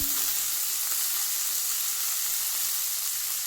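Small chopped potato pieces frying in hot oil with a pinch of turmeric, giving a steady, even hiss that stays constant and moderately loud throughout after a brief stir at the start.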